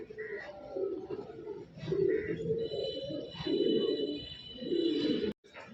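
Giribaz pigeons coo in low, rolling bursts, close by, with a faint high whistle and a brief cutoff near the end.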